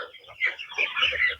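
Broiler chickens on a farm clucking in a quick burst of overlapping calls, close and fairly loud over a quiet background.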